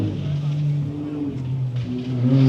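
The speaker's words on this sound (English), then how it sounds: "So it's a brand new Can-Am. And it looks and sounds phenomenal." A brand new Can-Am off-road vehicle engine idles and revs close by at an off-road rally stage, a throaty, steady rumble that rises slightly toward the end, with voices talking over it.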